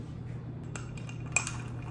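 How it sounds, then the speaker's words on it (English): A metal spoon stirs non-dairy creamer into a cup of coffee, giving a few faint clinks against the cup over a low steady hum. "I'm assuming that's enough once I stir it in."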